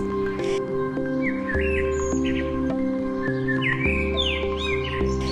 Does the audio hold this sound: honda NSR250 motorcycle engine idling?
no